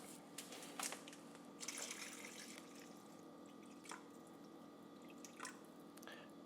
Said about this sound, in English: I'm gonna add some water, but I'm gonna fill it up just to like cover the bones.